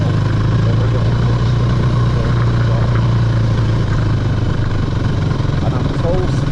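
An off-road motorbike on a dirt riding course holds a constant throttle, its engine droning steadily and loudly throughout with rough clatter.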